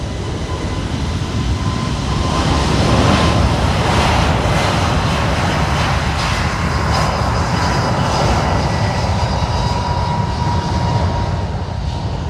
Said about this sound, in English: we have United Airlines 2088 heading to Chicago on an A321neo LR, or long range.